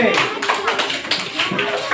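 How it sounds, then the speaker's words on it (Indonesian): A group of children in a class clapping together in a burst of rapid, overlapping claps, fairly loud and close, with voices mixed in. "Yang tepuk tangan untuk kelompok B."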